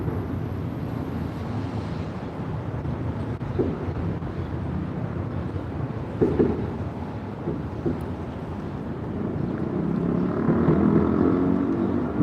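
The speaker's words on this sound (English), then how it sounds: "Somebody on their motorcycle." An outdoor trackside ambience with wind noise carries a low engine drone that swells and fades as a motorcycle passes, mostly distant and faint.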